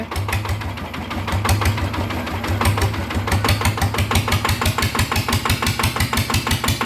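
A Yanmar diesel engine runs loud and close, its fast, even knocking pulse turning sharper and more distinct as the revs settle.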